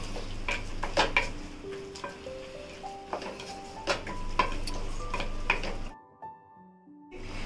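Roasted peanuts fry in an onion tamarind rice mixture while a spoon scrapes and clinks against the pan, giving a soft sizzle under irregular metallic taps. The sound drops out abruptly near the end, and no one talks.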